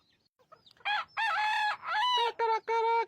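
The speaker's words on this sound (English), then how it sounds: "Did you know they close their ears when they crow?" A rooster from a prize-winning backyard flock crows loudly and close by, a few faint clucks leading into a long, strained cock-a-doodle-doo in several bursts.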